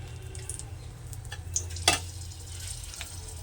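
Two dried red chillies dropped into hot oil on a low flame for tempering, a faint, steady close sizzle with a few soft ticks and one brief louder crackle, no voices.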